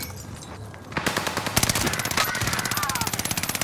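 Rapid automatic gunfire in a video game, a fast steady stream of close, loud shots starting after a second of quieter ambience and continuing without pause to the end.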